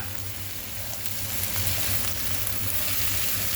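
Sliced carrots sizzling in a hot pan with oil, a steady dense frying crackle that holds fairly loud and continuous with no talking.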